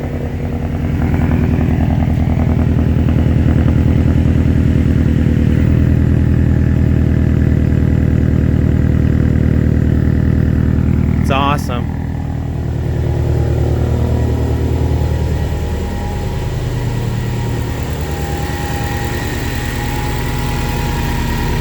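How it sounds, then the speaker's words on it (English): A modified Subaru STI, tuned to 450 WHP on a stock block, idles loud and steady after a cold start, with a brief sharp click partway through and a slight drop in level afterward; a voice speaks briefly. "Listen to that cold start."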